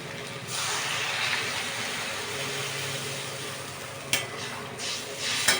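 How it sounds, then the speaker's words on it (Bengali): Water poured into a pan of frying spiced pointed gourd curry, a continuous loud sizzle and bubbling hiss that holds steady, with brief clatters of stirring near the end. "এবার আমি এটার মধ্যে জল ঢেলে দেবো"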